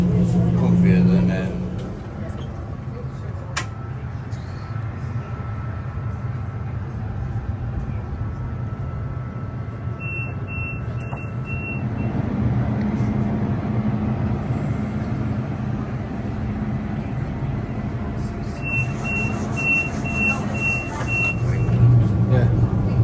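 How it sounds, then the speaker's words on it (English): Tram ride between Alicante and Benidorm, with a steady low rumble of the moving carriage, faint high beeping tones at intervals and people talking over the interior noise. "this tram is so much comfier than"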